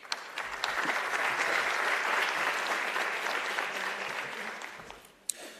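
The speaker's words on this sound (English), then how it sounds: "So a round of applause for..." Steady, dense applause from an audience at a youth trade convention hall, swelling early, holding evenly, then fading out near the end before a single sharp knock.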